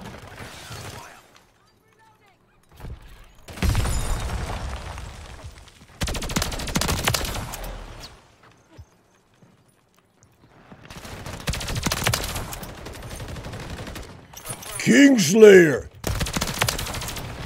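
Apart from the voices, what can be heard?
gunfire in a first-person shooter video game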